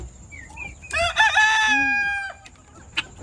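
At a morning chicken coop, a rooster lets out one loud, close crow lasting over a second, framed by soft clucking from nearby hens.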